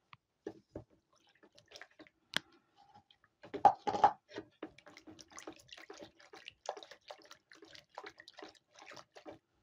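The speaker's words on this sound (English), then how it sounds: "So now I'm going to pour the caustic soda into the water mixture." Caustic soda poured into water for laundry bar soap, scattered faint drips and splashes with a few louder pours in the middle, quiet and close, no talk.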